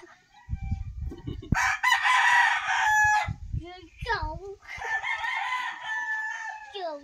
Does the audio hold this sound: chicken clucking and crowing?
yes